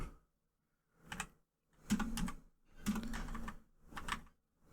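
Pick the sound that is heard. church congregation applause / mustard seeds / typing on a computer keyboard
typing on a computer keyboard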